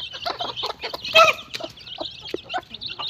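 Domestic hens on a small egg-producing farm cluck steadily at close range, with overlapping calls from several birds and a louder burst of clucking about a third of the way through. No one speaks.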